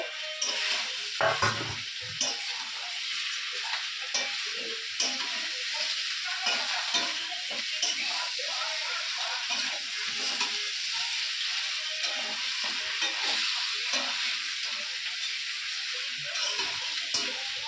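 Spiced masala with bhetki fish being sautéed and stirred in a pan: a constant bright sizzle and frying hiss, with soft scraping stirs and small clicks throughout, close and steady, with no talk.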